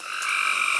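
Frogs croaking at night, a recording played in while driving: a dense, steady chorus of many frogs, continuous and even, with no voices.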